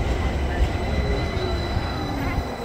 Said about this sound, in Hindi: मिलान में अभी तक ट्राम सिस्टम है, ट्राम्स चलती हैं ज़बरदस्त पूरे शहर में।